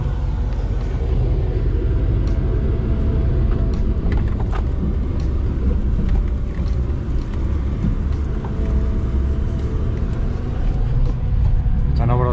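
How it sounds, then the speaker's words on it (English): A four-wheel-drive vehicle coasts uphill in two-wheel drive on rough outback terrain near Ningaloo, Australia, producing a loud, steady rumble of engine and tyres with scattered knocks and rattles throughout, and faint voices now and then. "I'm going to coast up in 2-wheel drive,"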